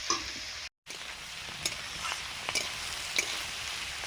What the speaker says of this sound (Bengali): এই সবজিগুলো ভাজা হয়ে গেছে।